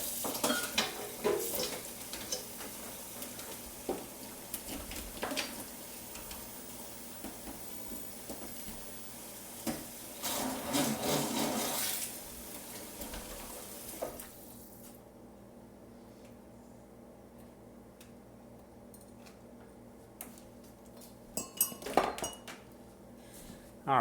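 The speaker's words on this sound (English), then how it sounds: "something I want to clean right away is this immersion blender." An immersion blender and dishes are washed in a kitchen sink, with clinking pots, rattling cutlery and rushing water, busy at first and then quieter with occasional clatters.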